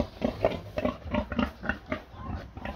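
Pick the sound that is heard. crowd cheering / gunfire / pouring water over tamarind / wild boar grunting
wild boar grunting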